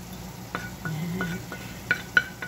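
Eggplant meat topping being mixed in a pan, with faint sizzling under soft scraping stirs and a few sharp utensil clinks near the end, close up and fairly quiet.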